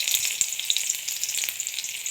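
Chopped onion fries in oil in a wok, giving a bright, steady sizzle with small crackles and pops close by and no voices.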